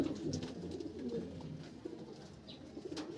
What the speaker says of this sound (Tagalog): Itong ibon na to.